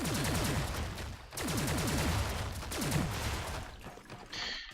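The default weapon fires in the platform shooter Cloudbuilt, a fast rattling stream of synthetic gunshots in repeated bursts with short gaps, loud and continuous over a steady game backdrop, without speech.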